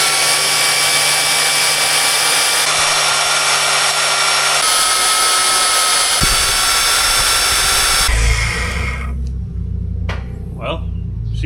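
A magnetic drill bores holes in a HEMTT 10x10 military truck, its loud whining motor running steadily for several seconds before shifting and cutting off, leaving rumbling and faint voices at the end.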